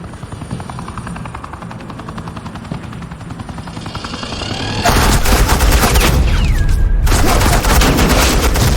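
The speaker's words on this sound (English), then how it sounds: "suppressing fire" Sustained suppressing gunfire in Batman: Enemy Within, a loud dense burst of rapid shots erupting halfway through over a quieter rumbling, helicopter-like drone, with a brief gap near the end.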